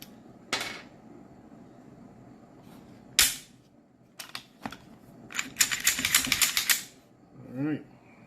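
A SIG M18X-Carry pistol is cleared with a series of sharp metallic clicks and clacks, the slide racking in a close, rapid cluster, followed by a faint voice.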